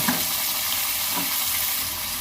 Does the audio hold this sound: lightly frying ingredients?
yes